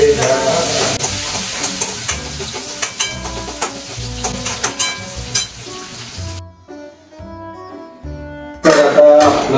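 Tempering (phodni) for dal sizzles and crackles in a pan with occasional stirring, all under loud music, dropping out briefly before the sizzle returns strongly at the end.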